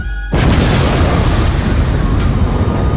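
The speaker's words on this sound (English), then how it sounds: "It's my explosion on deck." A loud explosion sound effect bursts in suddenly, a dense roaring blast with heavy low rumble that sustains without fading, with a second sharp crack midway.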